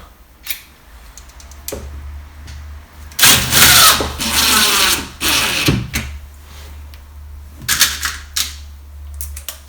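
While drawers for an IKEA PAX wardrobe with Sevroll sliding doors are assembled, a power driver sets a 4x16 screw in short, loud whirring bursts, with a few clicks and handling knocks between them.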